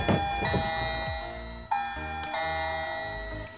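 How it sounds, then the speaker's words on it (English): A toy dollhouse doorbell plays a tinny electronic chime melody with repeated bell-like tones, close and steady, with no voices. "she got this big old dollhouse, and that thing is ringing my nerve because you can ring the doorbell."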